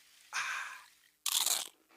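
Two sharp, crisp crunches of teeth biting into a cheese-topped nacho chip, close and loud, the second bite brighter and shorter, with no voices.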